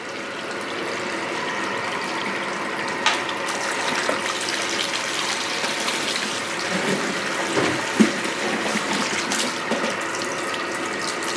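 Water running steadily while perm lotion is rinsed out of hair, a constant close splashing rush with a few brief knocks and clatters, no talking.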